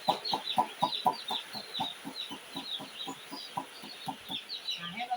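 Broiler chickens on a poultry farm, many short clucks in a quick, repeating, overlapping rhythm, moderately close and fairly soft, going on without a break.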